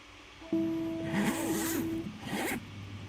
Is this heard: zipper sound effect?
yes